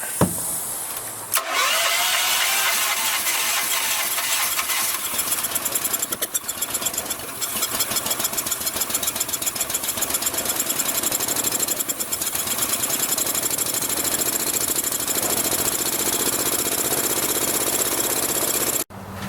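A Honda engine on an air compressor starts after a brief sputter and runs steadily and loudly on carburetor cleaner, a rough, continuous mechanical roar that cuts off abruptly at the end.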